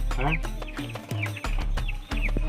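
A hen clucks in a few short, close bursts, mixed in with people talking in Punjabi nearby.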